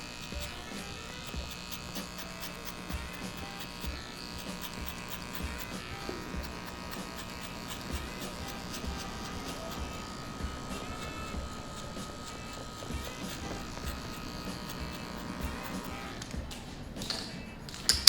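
Electric hair clippers buzz steadily while cutting hair clipper-over-comb during a combover fade, a close, continuous motor hum with small taps and rustles throughout.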